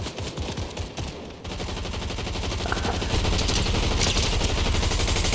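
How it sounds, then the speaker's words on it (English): Rapid submachine gun fire in a shooting video game, a dense continuous stream of closely spaced shots that runs loud and unbroken for several seconds. "Okay, the SMG, I'm not good at this range."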